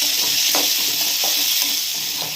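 Ripe tomatoes and garlic sauté in a pan for mint chutney, giving a loud, constant close sizzle broken by regular scraping strokes of a stirring spoon.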